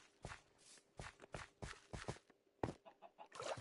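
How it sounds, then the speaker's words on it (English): Chicken clucking in the Minecraft video game, several short bursts at a steady, uneven pace, fairly faint and close, with shuffling footstep-like sounds between them and no talking. "Chicken."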